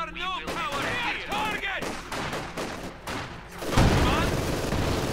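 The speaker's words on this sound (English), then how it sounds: "the MG42 firing away, immediately suppressing them this time around due to its suppression bonus" MG42 machine gun firing in Company of Heroes 2, heard as rapid bursts mixed with other battle noise and explosions under a commentator's talk, with a heavier blast near the end.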